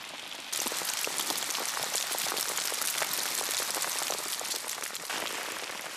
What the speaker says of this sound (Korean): 갑자기 우박이 쏟아집니다.